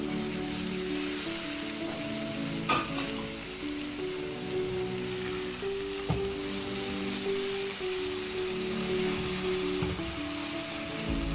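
Finely chopped tomatoes hit a pan of cooked onion for a baby potato gravy, giving a steady soft sizzle and hiss with a few clinks of a utensil, fairly quiet and with no talk.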